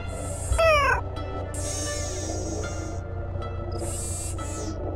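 A cat in a Nancy Drew game meows loudly and clearly with a rising, wavering cry, followed by long tonal hums and a second higher sustained tone over a steady background drone.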